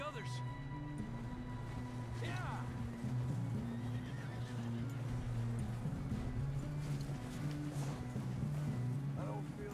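A horse whinnies several times, shrill and nearby, over steady hoofbeats and a low musical drone in Red Dead Redemption 2, with a voice speaking briefly.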